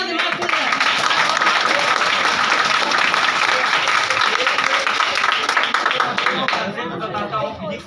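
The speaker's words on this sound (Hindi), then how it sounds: "ताली बजाएंगे आप लोग" Audience applause at a motivational speech: dense, steady clapping from a large crowd that holds strong for several seconds, then thins and fades toward the end.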